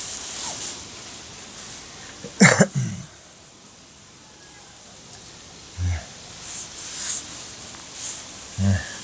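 A single man coughs sharply at close range, a quick cluster of rough bursts, followed by a few quieter throat and breathing noises in an otherwise calm room.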